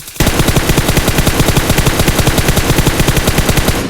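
Sustained automatic gunfire in PUBG, a loud, rapid, even stream of shots lasting almost four seconds without a break.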